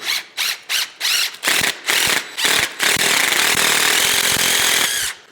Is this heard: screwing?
yes